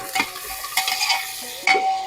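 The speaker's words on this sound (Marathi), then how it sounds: "परतून घेऊया" Chopped coriander being sautéed in a pan for biryani rice, a few scraping stir strokes with light crackle, close by and moderately loud with brief quieter gaps between strokes.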